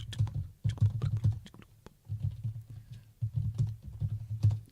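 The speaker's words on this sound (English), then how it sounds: "Just typing away." Quick bursts of keys clicking on a computer keyboard in a podcast room, coming in uneven runs with short pauses, close and moderately quiet over a low rumbling hum.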